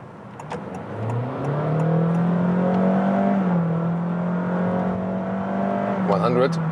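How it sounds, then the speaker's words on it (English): A Honda HR-V hybrid accelerates from 40 km/h on the Autobahn, its engine note rising and then settling into a steady, sustained drone, heard close from inside the car. "start from 40 kilometers an hour, and see how this hybrid goes"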